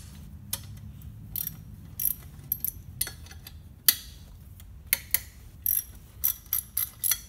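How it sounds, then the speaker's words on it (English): Quarter-inch drive ratchet working small 10mm bolts during injector replacement on a 2005–2006 Toyota Hilux Vigo KUN26R with 1KD-FTV diesel engine: a series of short, close metallic clicking bursts spread irregularly, quickening toward the end. "we need to undo these two 10mm bolts to then slide that off"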